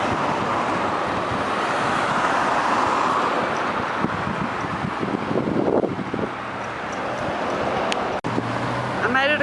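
Cars speed around a busy roundabout, a steady traffic roar mixed with heavy wind buffeting the microphone, with a few louder passes and a brief thump near the end.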